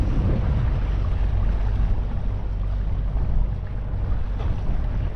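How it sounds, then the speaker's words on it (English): Fishing boats and fast day-trip boats motoring unseen in fog off Alaska, heard as a continuous low engine drone mixed with wind and water noise, steady and fairly loud without any talking. "So we can hear fishing boats around us and those fast, almost day trip ones, but can't really see them"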